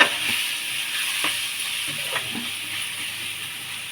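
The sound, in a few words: chopped onions sautéing in a pan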